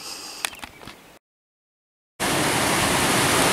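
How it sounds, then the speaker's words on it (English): A creek in southwestern Montana runs strong with a loud, steady rushing of water that starts abruptly after a brief silence, following a stretch of faint handling clicks and outdoor ambience. "Just thought I'd show you the creek running down through here. Water's running pretty good."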